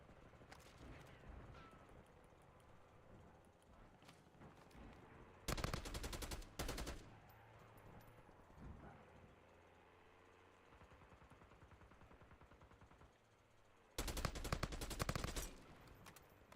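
Video game gunfire crackles in two loud bursts of rapid automatic shots, separated by a long quieter stretch of faint background noise.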